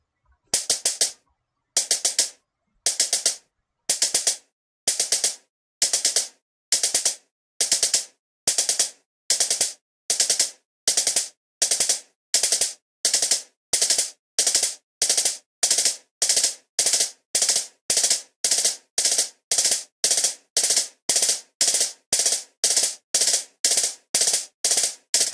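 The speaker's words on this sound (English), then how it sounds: "I assigned to each note the sound of a drumstick hitting a hi-hat" Crisp drumstick clicks on a hi-hat, one per musical note, start sparse and gradually speed up into a rapid, steady ticking stream, with no speech.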